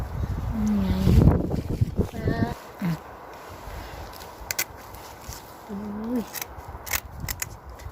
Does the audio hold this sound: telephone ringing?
no